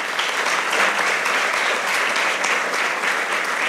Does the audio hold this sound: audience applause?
yes